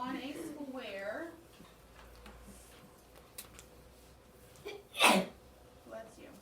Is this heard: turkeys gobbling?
no